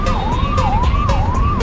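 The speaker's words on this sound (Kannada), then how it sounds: "ಆಂಬುಲೆನ್ಸ್ ದಾರಿ ಬಿಡ್ರಪ್ಪ ಬೇಗ." An ambulance siren wails loud and close near Devaraja bus stand in Tumakuru, heard during a motorbike ride. Its tone sweeps up and down in a rapid repeating cycle over low traffic rumble.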